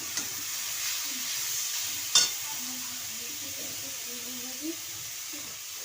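Steady, close sizzle of carrot and beetroot frying in oil in a karahi, with one sharp utensil clink and a softer one later, and faint voices underneath.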